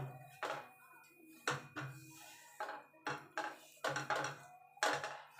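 A metal kadai of cooked pea filling is taken off a kitchen stove, giving a string of sharp clanks and taps against the burner at irregular intervals, close and moderately loud.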